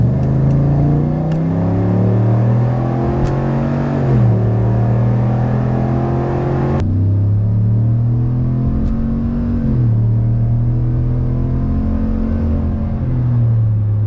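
A 2022 Chevrolet Silverado ZR2 with a 6.2-litre V8, ten-speed automatic and aftermarket exhaust pulls hard at full throttle on a highway merge. The loud engine drone climbs steadily, dips briefly at each upshift, then climbs again.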